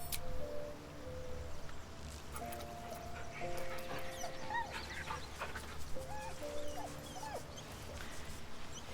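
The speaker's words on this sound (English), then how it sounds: "Of course we need to pet a dog." A dog in Baldur's Gate 3 gives soft whimpers and short yips over quiet game ambience, the sounds coming in brief bursts spread across the stretch.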